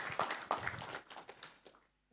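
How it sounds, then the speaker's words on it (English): Audience applause at a business forum, a short burst of scattered hand claps from a modest crowd that quickly thins and fades out within two seconds. "I think she deserves another round of applause"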